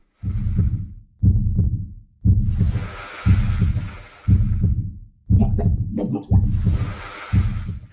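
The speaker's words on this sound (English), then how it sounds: "a loud, incessant heartbeat sound starts playing" A loud, incessant heartbeat plays in a video game as heavy, booming double thumps repeating steadily about once a second, with a hissing wash rising between some beats.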